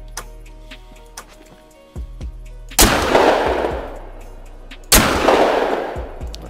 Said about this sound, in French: on va le tester en mode juste chevrotine